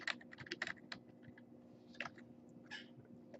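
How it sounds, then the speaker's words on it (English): Keys tap on a computer keyboard in short irregular bursts, close and quiet, with gaps between strokes and no talk. "And then again, we just type be prepared."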